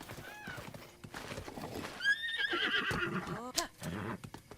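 A horse whinnies loudly in a video game, The Legend of Zelda: Breath of the Wild, while hooves clip-clop steadily, with brief voice sounds mixed into the close, busy scene.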